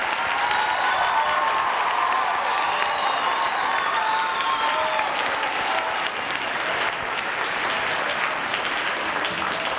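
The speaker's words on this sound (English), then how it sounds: "Let's have a big round of applause for Step Team" Louder, sustained applause from the audience at a fitness room dedication for a step team, many hands clapping steadily for about ten seconds with a few scattered cheers mixed in.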